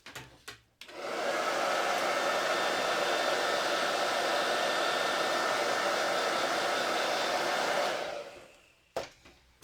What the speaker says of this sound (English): So grab my hair dryer.